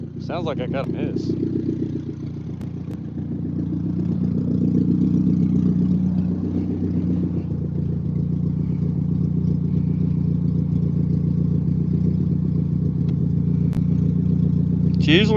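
A car engine idles steadily around 1,000 RPM, a continuous close low rumble that holds even throughout, with brief speech at the start and end.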